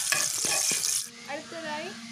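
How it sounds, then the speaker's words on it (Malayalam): Cashews frying in ghee for Kerala palada pradhaman, a bright crackling sizzle with a few stirring scrapes that fades abruptly midway, leaving only a quiet low hum. "കാഷ്യൂ ഇടാം. ജസ്റ്റ് ഒന്ന് നെയ്യിലോട്ട് ഒന്ന് വരച്ച് കൊടുക്കാം."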